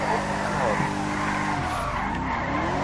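Tires skid and squeal continuously as a car drifts in donuts in GTA 5 roleplay, the BMW's engine droning loud and close underneath throughout.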